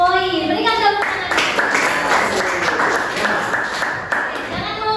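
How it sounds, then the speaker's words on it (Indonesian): Students in a Grade 10 classroom clap for a leading group during a quick-answer quiz game, a dense burst of applause with a voice over the start, lasting several seconds. "Berikan tepuk tangan."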